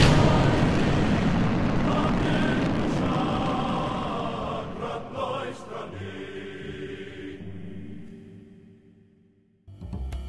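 A 1952 Soviet R-1 downrange rocket launching in Kerbal Space Program with RP-1, a loud broad roar that slowly fades and thins over several seconds before a fresh burst of rumble at the end.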